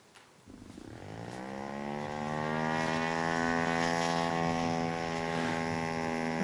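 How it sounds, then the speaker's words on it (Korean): A small unmanned scale-model aircraft is tested at an airfield as its propeller engine spins up. A rising, steady droning whine with strong harmonic tones climbs in pitch, then holds loud and close for several seconds. "저기 축소기 비행 시험한 영상이 하나 있는데 한번 틀어주시겠어요?"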